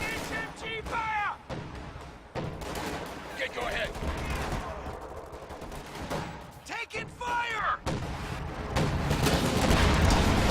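Gunfire and explosions from an HQ firing on a Sherman tank in the strategy game Company of Heroes 2, with repeated loud shots and booms among battle noise and someone talking over it.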